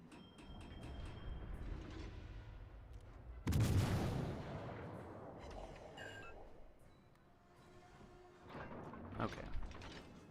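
Naval guns fire at a Vladivostok in World of Warships: Legends, one heavy, booming salvo standing out about a third of the way in, surrounded by quieter mechanical clanks and distant rumbling.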